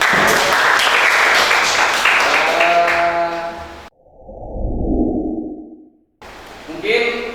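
A classroom group claps together during a teaching-practice lesson, giving a loud, steady wash of applause for several seconds before it cuts off abruptly and other sounds follow.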